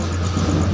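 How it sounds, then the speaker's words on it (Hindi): A tractor rolling past nearby, a steady low engine rumble with a dense, unbroken mechanical drone for the whole short stretch. "इधर से ट्रैक्टर पार हो रहा है"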